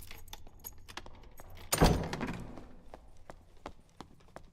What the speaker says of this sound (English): I got tripped up by the other footsteps I heard under me.